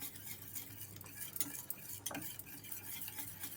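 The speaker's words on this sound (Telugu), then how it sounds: "చాక్లెట్ మెల్ట్ అయ్యేంత వరకు మంచిగా ఇట్లా తిప్పుకోవాలి." A spoon stirs melting chocolate for thick Italian hot chocolate: soft scraping and clinking against the pan, with a faint sizzle, continuous and close, with no voices.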